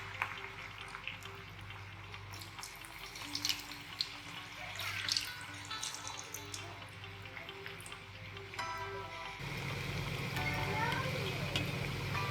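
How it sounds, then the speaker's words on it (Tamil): Cauliflower pakoda frying in hot oil in a kadai gives a continuous crackly, watery sizzle with small pops, which grows denser and steadier toward the end. "ஒரு கடாயில் எண்ணெய் நல்லா சூடு பண்ணி வச்சுக்கோங்க. அதில் காலிஃப்ளவரை இந்த மாதிரி ஒன்று ஒன்றா சேர்த்துக்கோங்க."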